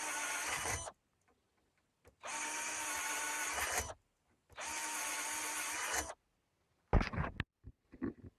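A power drill bores quarter-inch drain holes in three steady whirring runs of about two seconds each, with quiet gaps between, followed by a few sharp clatters and knocks.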